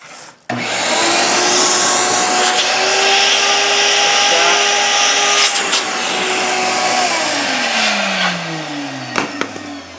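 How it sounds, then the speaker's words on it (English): A shop vacuum sucks oil out of the valve cover area on a 2005 Chevy Colorado engine, a loud, steady whine that starts abruptly and drops in pitch near the end, with brief clunks and no talk. "I had a vacuum on here, and so I was sucking it out."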